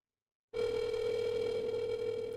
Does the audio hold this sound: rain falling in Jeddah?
no